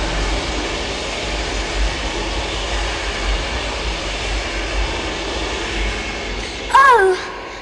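A steam-era train roars through a dark tunnel in a dramatised Railway Children audiobook: a loud, steady rushing rumble that swells slightly, then a brief high squeal near the end.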